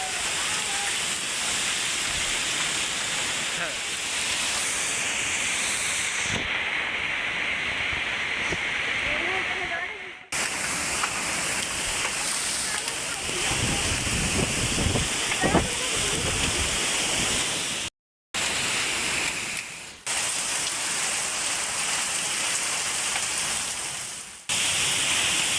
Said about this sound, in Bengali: দেখুন বন্ধুরা, প্রচুর ঝড় বৃষ্টি হচ্ছে,